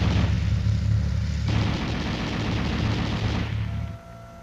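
A 7.62mm M73 machine gun mounted coaxially on an M60 tank fires a loud, sustained burst for about four seconds, then cuts off into a quieter fading tail.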